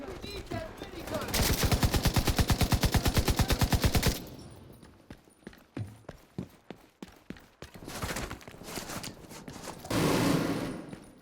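A minigun fires in The Division 2, a loud, fast, steady stream of shots for a few seconds, then scattered single bursts and a final roaring volley, with no talk.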